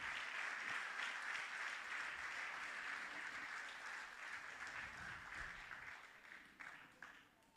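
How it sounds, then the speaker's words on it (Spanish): A church congregation bursts into loud, sustained applause that holds steady for several seconds, then thins and fades toward the end. "Denle un fuerte aplauso al Señor"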